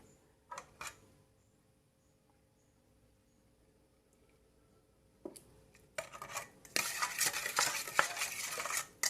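Dressing for Thai fried egg salad is stirred in a bowl until the sugar dissolves, with quiet clinks early on, then a stretch of near silence before louder, steady scraping and clattering stirring takes over to the end.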